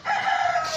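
Close, loud crowing from a rooster fills the moment, one steady drawn-out call with no voices over it.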